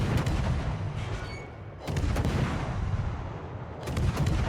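Heavy naval gun salvos from a World of Warships training battle between the Halland and a destroyer, with shells ricocheting and failing to penetrate: loud booming broadband blasts at the start, near two seconds and near four seconds, dense rumble throughout.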